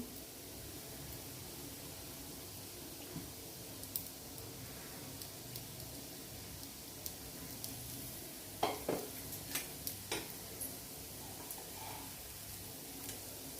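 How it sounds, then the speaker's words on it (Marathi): Corn cutlets fry in oil on a flat tawa with a soft, steady sizzle that stays quiet throughout, broken by a few brief scraping and stirring clicks near the middle. "आता आपण हे पलटून घेऊया. त्याच्या आधी थोडंसं वरून तेल सोडूया."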